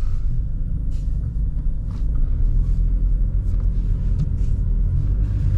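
A car idles or rolls in close by with a steady low engine rumble throughout, and a few faint higher knocks and clatters sit over the drone.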